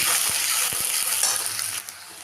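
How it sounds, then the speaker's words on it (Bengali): Two medium onions, chopped, fry in hot oil for chicken pulao, giving a close, continuous sizzle with a few soft clicks from stirring and a brief knock near the end. "এখন আমি এখানে মাঝারি সাইজের দুটো পেঁয়াজ কুচি করে দিয়ে দিলাম পেঁয়াজটাকে একটু ভেজে নেব"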